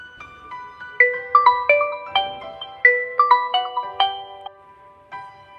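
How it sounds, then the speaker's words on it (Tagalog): A phone ringtone plays for an incoming call, a bright melodic sequence of quick electronic notes that repeats, loud and close. "Ilang tunog na narinig ni Tina. Lumapit siya sa kanyang telepono."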